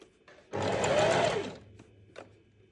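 A sewing machine stitching fabric into a tube for a double-sided cloth wipe, one close, steady burst of fast stitching lasting about a second, followed by a couple of soft clicks.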